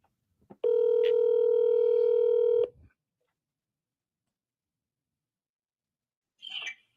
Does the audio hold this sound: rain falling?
no